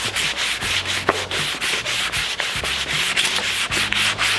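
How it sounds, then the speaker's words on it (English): Painted plastic go-kart panels are wet sanded by hand with rapid, rhythmic back-and-forth rubbing strokes. The scrubbing is loud and close, with no voices. "we're just giving a little wet sand to help the paint be a little bit smoother"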